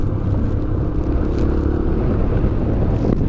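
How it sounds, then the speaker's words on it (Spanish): Strong wind buffets the microphone on a 125cc motorcycle ride near Trelew, Patagonia, in a steady, loud roar with low rumble, continuous throughout. "Sí, se levantó mucho más viento."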